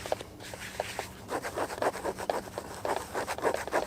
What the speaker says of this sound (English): we'll get to buffing again. Just make sure you rub it all in real good.